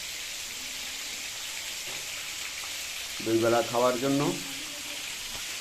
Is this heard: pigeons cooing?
no